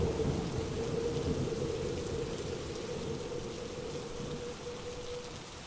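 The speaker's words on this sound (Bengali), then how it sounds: "হঠাৎ কোত্থেকে এসে বাধা দিল প্রচণ্ড ঝড় বৃষ্টি, মুহুর্মুহুর বিদ্যুতের ঝিলিক আর মেঘের গর্জন" Heavy rain pours in a cartoon thunderstorm sound effect, a dense constant roar of downpour with a deep rolling thunder rumble beneath it, steady throughout without any voices.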